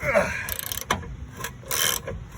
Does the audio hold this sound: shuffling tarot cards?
no